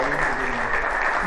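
A conference audience claps in a dense, continuous burst of applause that fills the room, with voices mixed in beneath it.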